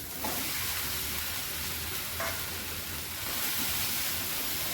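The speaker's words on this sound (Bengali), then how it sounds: "সয়াবিনটা এর সঙ্গে কষিয়ে নেব।" Soybean chunks sizzle and fry in a pan for a soybean and potato curry, a continuous hissing crackle with a few brief stirring scrapes, close and steady, with no talking.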